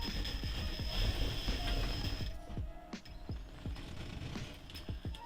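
A small RC scale truck motor whirs quietly, with a steady mechanical whine and repeated ratchet-like clicks and ticks from the drivetrain, close and continuous throughout.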